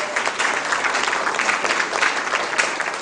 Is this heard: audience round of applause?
yes